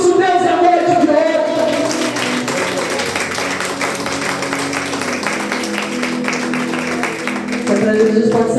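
A church congregation applauding during a service, a dense steady wash of clapping throughout, blended with music and voices beneath.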